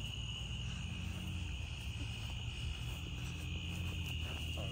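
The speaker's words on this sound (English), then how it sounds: "I hear frogs." Frogs calling at night in a swamp during a gator hunt, a continuous faint chorus of high trilling with insects, distant and steady, no talking.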